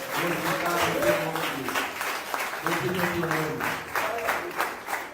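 A church congregation claps in praise, steady dense applause running underneath a preacher's voice that keeps talking over it.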